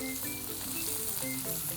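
Soy sauce hits hot oil in a pan while making jjajang sauce for tteokbokki, giving a dense, steady sizzle and crackle that fills the whole moment, close and loud with no talk.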